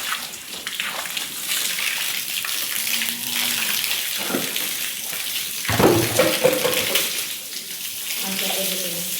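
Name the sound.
filling water for cattle in a cowshed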